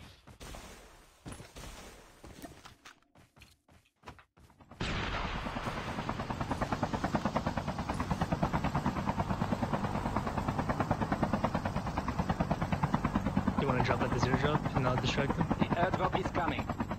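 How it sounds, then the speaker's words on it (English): A helicopter flying in the mobile shooter Call of Duty Mobile: a loud, steady rotor chop that starts abruptly after a few seconds of scattered game noise and drones on continuously, with brief voices over it. "Still got a chopper, we can still fly over there."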